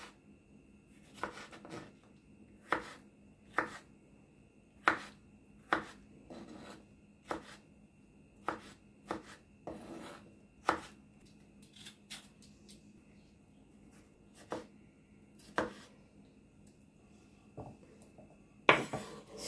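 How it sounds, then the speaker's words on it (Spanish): Onion is chopped finely on a board for a baby broad bean salad: a quiet series of crisp, evenly spaced knife taps, some in quick pairs, with a louder chop near the end and no speech. "La cebolla la vamos a picar bien finita"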